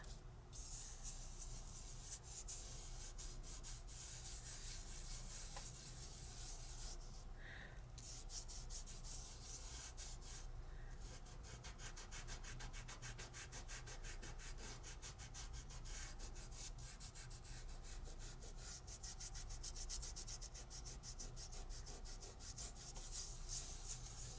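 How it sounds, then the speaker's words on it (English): Steady rubbing and rasping as excess glue is rubbed off a Sizzix Framelits paper craft piece, a continuous close scratchy friction with no talk. "I'm just going to rub, and take that right off."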